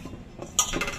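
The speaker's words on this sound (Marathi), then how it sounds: "दही पण मिक्स करून घेऊया" A spoon clinks a few times against a bowl while yogurt is mixed into methi dough, with one brighter, sharper clink in the middle.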